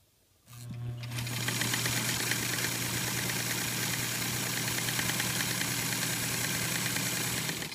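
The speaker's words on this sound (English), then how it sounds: "let me show you quick stitching example" A vintage White Rotary 659 sewing machine starts after a brief quiet moment and then runs steadily, a fast rhythmic mechanical whir with a low hum, close and continuous to the end.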